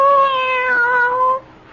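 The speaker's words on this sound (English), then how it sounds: "Why, you're purring," A cat in a radio mystery drama gives a single clear, drawn-out meow lasting over a second, close and prominent, with no talking over it.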